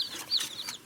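Young Brahma chicks give a few soft, high clucks and peeps close by, short chirping calls scattered through a brief moment.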